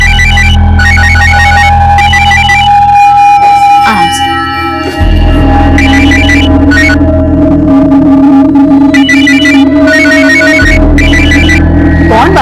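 A telephone ringtone rings repeatedly in a loud, dense, busy room, its bursts recurring in a regular pattern over a steady hum and background chatter.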